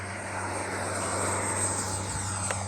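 A FlyFans L-39 64 RC model jet running on a 3300 6S battery gives a steady, continuous high whine with a low engine drone while flying, heard alone without talk.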